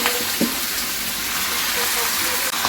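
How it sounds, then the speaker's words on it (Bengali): Steady sizzle of food frying in hot oil for chicken momo, a constant bright crackling hiss with a couple of faint clinks. "তেলটাও গরম হয়ে গেছে, আমি এবার দিয়ে দিচ্ছি।"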